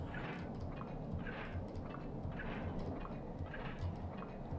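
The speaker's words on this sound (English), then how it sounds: "Were those birds? Yeah, they're birds, alright." A flock of birds in the video game Fused 240 gobbling and clucking in quick repeated bursts over a steady, dense background rumble, fairly loud and continuous.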